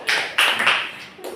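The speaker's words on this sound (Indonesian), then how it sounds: "Kita beri tepuk tangan ya." A few quick rounds of clapping in a classroom during a micro-teaching lesson, close and fairly loud, coming in short uneven bursts over little more than a second.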